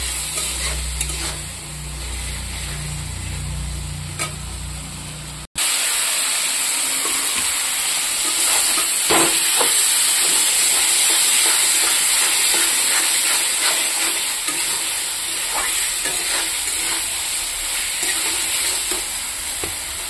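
Potatoes and spices sautéing in a pan with a little water added for a cauliflower sabji, a steady close sizzle and hiss with scraping stirs, louder and brighter after a brief break partway through.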